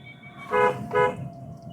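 Two short, loud car horn honks in quick succession, each a bright tooting blast, over low background road noise.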